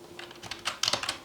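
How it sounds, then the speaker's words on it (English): Keys tapped in quick, uneven bursts on a Logitech K480 wireless Bluetooth keyboard used with an iPad, a close, fairly soft clatter of several keystrokes with no voices. "So if I'm typing on the keyboard, sometimes it doesn't pick up right away."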